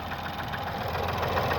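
A 2012-2018 Ford Focus engine running with no coolant in the system, idling with a steady, dense mechanical clatter and knock, close and continuous with no voices.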